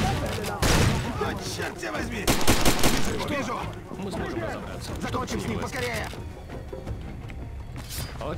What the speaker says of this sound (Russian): Это как, какие-то фейерверки, что ли, да?